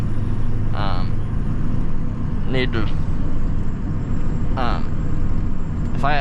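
A 6.0 diesel truck engine idles loud and rowdy, a steady close-up rumble throughout, with brief higher whines rising over it a few times.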